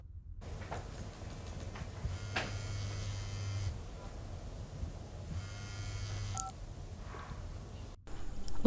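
Telephone keypad dialing tones, several steady beeps in two longer bursts, faint under a low hum and room noise.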